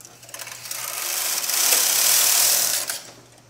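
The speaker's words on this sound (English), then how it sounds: "I'm going to knit across the row" A domestic knitting machine carriage is pushed across a row of needles, making a steady mechanical whirring rush that swells in the middle and fades near the end, with no talking.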